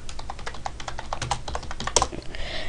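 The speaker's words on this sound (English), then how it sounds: "you want to go to search, and you want to type in disaster kit." Fast typing on a computer keyboard, with dense, rapid clicking keystrokes close up and a slightly harder clack near the end, with no talk.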